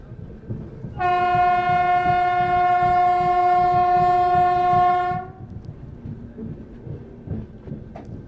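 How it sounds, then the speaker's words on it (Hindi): A train horn sounds as the train arrives at Sadura station. One long, steady, loud blast lasts about four seconds over the low rumble of the moving train. "सदूरा स्टेशन फिलहाल अपनी ट्रेन पहुँची है।"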